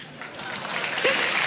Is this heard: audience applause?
yes